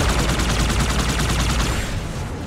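Rapid automatic gunfire in Halo 2 Anniversary, a dense loud stream of shots that keeps going for the whole stretch and thins slightly toward the end.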